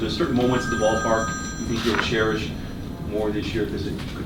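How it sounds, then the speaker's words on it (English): A telephone rings with a steady electronic tone in the background of a press gathering at Camelback Ranch, heard under someone speaking. "that's my phone going"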